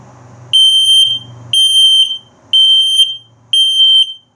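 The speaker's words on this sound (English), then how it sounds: "and your low battery alarm coming up." An RV smoke and carbon monoxide detector in a 2021 Flagstaff Micro Lite 21DS runs its low battery alarm test, giving four loud, evenly spaced half-second electronic beeps with brief silences between them.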